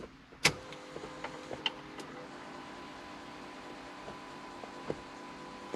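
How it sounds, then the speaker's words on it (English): An electric gear rotor fuel pump on an AMC Eagle runs with a faint, steady whine and hum, broken by a few soft clicks, heard close with no talking. "Okay, that's the normal sound of the pump."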